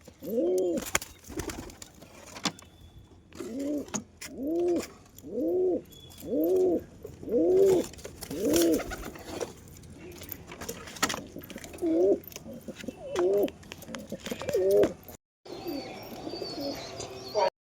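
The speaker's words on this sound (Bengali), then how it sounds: "তো এইসব কবুতরগুলো উড়াবো ভিউয়ার্স" Domestic Giribaj pigeons coo repeatedly in a steady run of rounded, throaty calls close by, pausing briefly before another cluster of coos.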